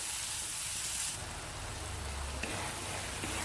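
Tomatoes and onions sautéing in oil for a peppery Tamil milagu kuzhambu, a steady soft sizzle and hiss heard alone, fairly quiet and continuous, with a faint tap or two.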